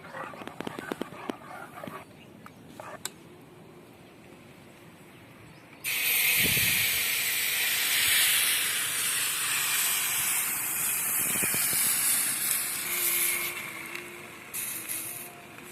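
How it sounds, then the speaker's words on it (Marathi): Wheat flour crepes sizzle in oil on a griddle, a loud, close, broad hiss that starts suddenly after a few quiet clinks and holds steady before easing near the end. "आपल्याला असे प्रत्येक वेळेस तेल टाकावं लागतं तवेवरती म्हणजे घावणे हे चांगले तयार होतात"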